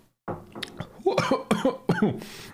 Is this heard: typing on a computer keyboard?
no